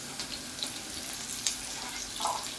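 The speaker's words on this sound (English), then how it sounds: "Our onions are ready, so I'm going to add in my green pepper" Chopped green pepper goes into onions already frying in a pan, and a steady, close sizzle fills the moment with a few faint clinks on top and no one speaking.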